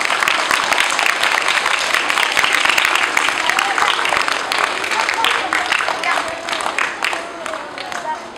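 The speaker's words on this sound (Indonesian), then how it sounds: "Beri tepukan kepada Inspektor Muhammad Rejab." An audience at a police career talk claps for a police inspector, a dense, loud, continuous wash of applause that stays strong and then thins slightly toward the end, with some voices underneath.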